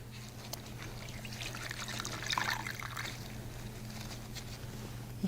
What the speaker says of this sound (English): I can put all 4 washcloths into the water.